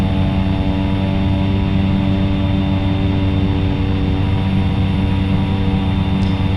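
Steady, loud drone of a Cessna Caravan single turboprop engine in the X-Plane 11 flight simulator during a night flight, a constant hum with layered engine tones filling the whole stretch.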